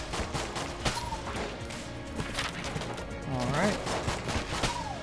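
Pistol shots ring out in Enter the Gungeon, a string of quick, sharp pops with game effects mixed in under steady background music. A voice speaks briefly.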